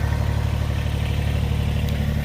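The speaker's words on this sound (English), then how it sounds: "I'm digging it out with the tractor, the excavator." A steady, close diesel rumble with a low pulsing throb and light mechanical clatter comes from an excavator digging out soil at a spring site, unbroken throughout and with no talking.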